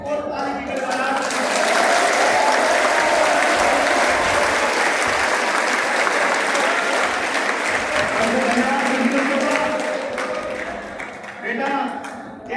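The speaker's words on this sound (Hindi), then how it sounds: "1 मिनट के अंदर सारे बच्चे अपना हाथ ऊपर करेंगे, हाथ ऊपर करेंगे और ताली की गड़गड़ाहट।" Sustained applause from a crowd of schoolchildren at a tree-planting monsoon campaign inauguration event in Shamli, building quickly and holding steady and loud for about ten seconds before tapering off.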